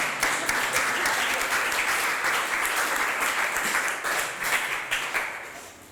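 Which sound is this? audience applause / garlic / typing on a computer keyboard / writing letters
audience applause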